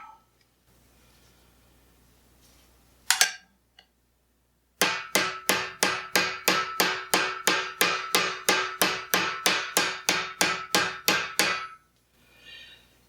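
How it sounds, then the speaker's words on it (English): Metal armour plate edge being hammered to roll it over, a steady run of about twenty sharp, ringing blows in even rhythm, loud and close, after a lone strike and a pause. "Hammering mostly on the edge."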